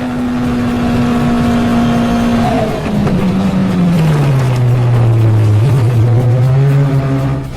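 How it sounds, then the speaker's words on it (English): A race car driving at over 150 miles per hour in fog roars loudly and close, with a sustained engine tone that drops in pitch as it passes, over heavy wind and road noise. "When racing driver Dino Zamparelli was driving at over 150 miles per hour"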